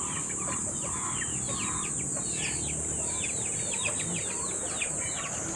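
Chickens being fed fallen mangoes cluck and chatter continuously in a busy outdoor setting, with many short calls overlapping against a steady high insect-like drone.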